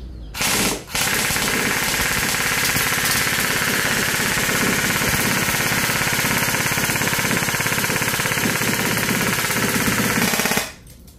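A modified HK416 airsoft rifle fires on full auto in one long, unbroken burst of rapid, loud, close mechanical rattling lasting about ten seconds, after a brief opening shot.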